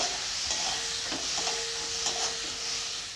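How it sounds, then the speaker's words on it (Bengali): Cumin and coriander powder masala with chopped tomato frying in a pan for a cauliflower roast, a dense steady sizzle with a couple of light spatula scrapes, close and without talk. "এবারে দেব জিরে গুঁড়ো ধনে গুঁড়ো মশলাটাকে ভালো করে কষাবো"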